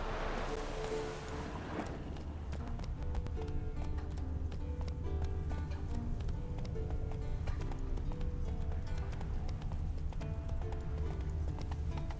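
Horse hooves clip-clopping at a steady gallop in the video game The Witcher 3, a continuous rhythmic drumming with occasional snorts, loud and close, with game music and ambience underneath.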